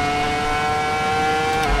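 A Ferrari F2004 V10 Formula One car at Silverstone in the racing game Assetto Corsa holds a sustained, loud, high-pitched engine scream at steady revs, with no talking.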